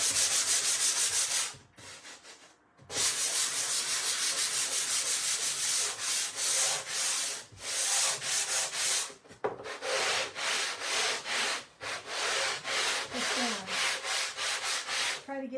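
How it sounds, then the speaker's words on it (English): A wooden piece is sanded by hand with steady, continuous rubbing strokes, loud and close, broken by a few short pauses between passes, with no talking. "But I feel like I want to sand it a little bit."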